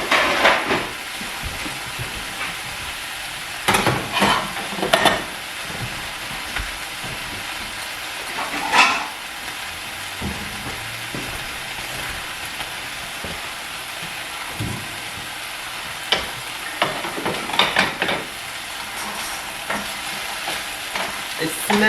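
Pepper steak wrap filling of steak and peppers fries in a pan, giving a continuous soft sizzle broken by scattered sharp scrapes and clatters from stirring, with no one talking.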